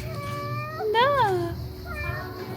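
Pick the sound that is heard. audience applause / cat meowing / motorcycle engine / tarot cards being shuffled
cat meowing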